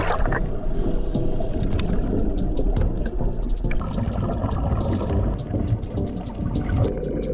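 Engine hum and water slapping against a hull during a short boat ride from Torrijos, Marinduque, Philippines, to a dive site, with scattered clicks and knocks, steady and close, no talking.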